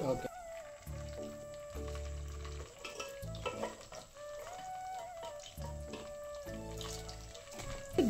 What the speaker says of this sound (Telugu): ఈ మటన్ని మనం ఆయిల్లో ఫ్రై చేసుకోవాలి